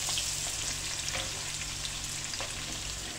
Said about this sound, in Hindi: और यहाँ डालेंगे एक प्याज। इसको ज़्यादा ब्राउन नहीं करेंगे, बस हल्का सा एक से दो मिनट तक चलाएंगे।